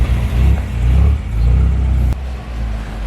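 A manual BMW M6 Gran Coupe on its stock exhaust revs close by, a deep loud rumbling engine rising and settling in a couple of pulls before dropping back to idle.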